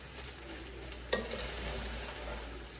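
Purple cabbage stirred in olive oil in a pan, a soft sizzle under one sharp scrape of the utensil, quiet and close with no speech.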